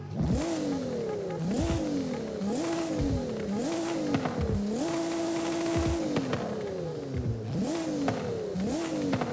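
A modified 2012 Nissan GT-R R35 Black Edition engine revs repeatedly, each burst climbing then falling away in quick succession, with one longer held rev midway.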